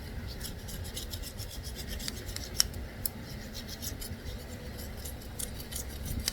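A sharp kitchen knife scrapes and cuts through a tough, waxy candle wick, a steady dry rasping with a couple of brief sharper clicks over low background rumble, no talking.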